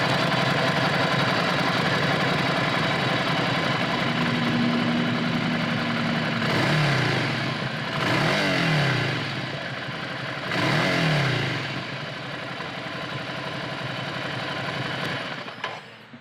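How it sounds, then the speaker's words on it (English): A 2021 Ducati Scrambler Nightshift motorcycle idles with a steady, close exhaust burble, then is blipped three times into short rising revs that fall back to idle. "Let's do that first exhaust note that everyone loves to hear"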